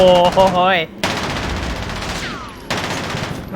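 Gunfire crackles through a warehouse shootout in a multiplayer shooter game, with loud bursts of automatic fire separated by brief pauses, and a voice briefly at the start.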